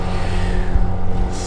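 Motorboats and small boats with buzzing engines near a lake shore, a steady low drone of motors running continuously at close range with no speech over it.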